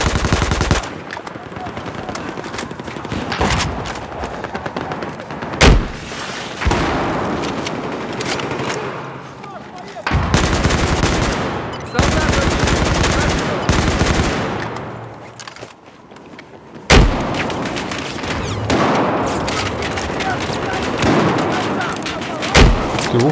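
Heavy automatic gunfire and explosive blasts from the video game Battlefield 4 on PC, loud sustained bursts with sharp impacts around 6 and 17 seconds, continuing almost without pause throughout.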